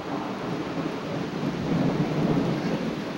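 A 1995 thunderstorm in Utah brings heavy steady rain and a low rolling rumble of thunder that swells midway, continuous and fairly loud with no voices.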